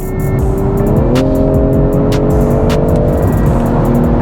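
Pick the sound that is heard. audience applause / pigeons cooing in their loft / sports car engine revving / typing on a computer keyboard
sports car engine revving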